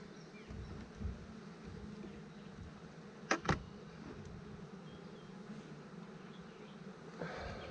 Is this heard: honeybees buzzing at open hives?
yes